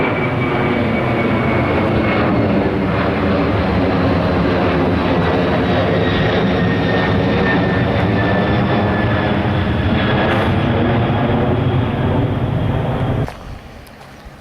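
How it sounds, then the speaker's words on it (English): A fixed-wing airplane at an airfield, its engine roaring loud and steady with a thin whine on top for about thirteen seconds before the sound drops away abruptly. "But just before going there, another plane to film."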